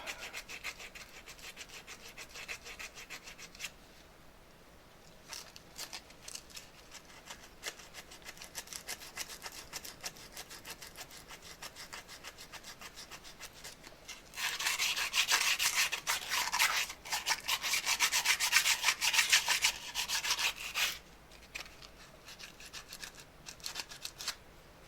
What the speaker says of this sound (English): Just get a bit of sandpaper.